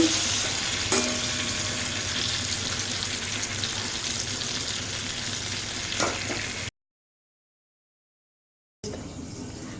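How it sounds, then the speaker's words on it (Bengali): Sliced pointed gourd fries in hot oil in a pan for a creamy curry, a steady broadband sizzle with occasional stirring clinks, then a brief silent gap before the sizzle resumes. "পটল ভালো করে ভাজা হতে হবে।"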